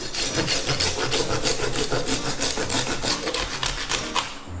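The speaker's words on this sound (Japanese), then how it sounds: "背骨ね、めちゃくちゃ硬いんで、もうこれノコギリ使いましょう。" A handsaw rasps hard and fast through a large fish's spine in steady back-and-forth strokes, loud and close, with no talking.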